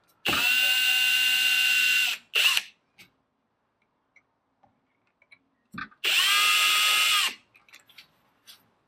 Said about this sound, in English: I'm just going to use a drill to speed things up here.